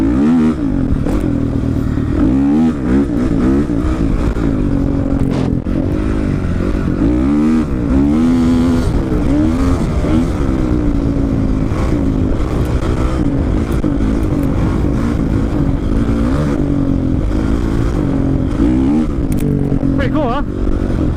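Two-stroke dirt bikes ripping along off-road trails, engines droning and revving continuously up close, with riders' voices mixed under the engine noise.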